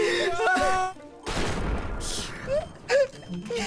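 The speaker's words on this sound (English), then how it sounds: "He's shooting me!" A burst of gunfire in Garry's Mod comes as a rapid volley of sharp shots, then a pause and a few more bangs, mixed with voices shouting and reacting throughout.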